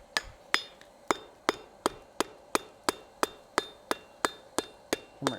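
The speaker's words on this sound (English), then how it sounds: "Hammer it down." A hammer strikes metal on an anvil while upsetting stock for a decorative hacksaw, ringing out in a steady series of about fourteen sharp, evenly spaced metallic blows.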